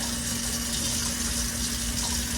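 Water poured into a cooking pan for an Easter Sunday dinner, a steady continuous running and splashing flow with a low hum underneath, close and moderately loud with no talking.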